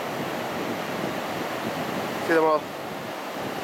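Wind and ocean surf at a Gold Coast beach on a windy, clear day, a steady broadband wash throughout, with a brief voice speaking near the end.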